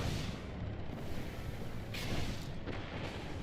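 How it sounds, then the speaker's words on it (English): Sniper rifle shots in Destiny 1 fire as a few sharp, booming reports with a heavy low-end rumble, spaced apart over a steady background of game noise, no voices present. "Destiny 1 snipers just feel good"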